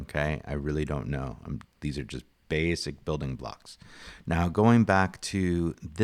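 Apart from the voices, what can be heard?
No everyday noise stands out behind the speech.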